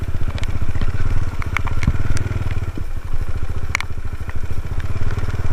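Suzuki Satria FU motorcycle engine pushing off-road through wet grass in heavy rain, a loud close rapid single-cylinder putter with rattles and crackles that surges and dips unevenly while the bike labors.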